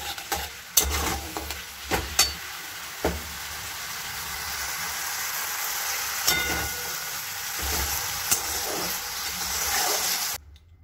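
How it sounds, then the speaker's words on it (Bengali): Onions fry in a pan for a spicy chicken and potato curry, a steady loud sizzle punctuated by sharp scraping knocks of a spatula stirring against the pan, ending abruptly. "এখানে পেঁয়াজটা ভাজছে"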